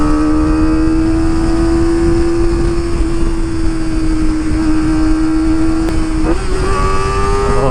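Kawasaki ZX25R motorcycle fitted with an Akrapovic exhaust holds a steady loud high-pitched drone, then its pitch jumps abruptly near the end as it shifts gear, the engine note stepping up close by without any talk.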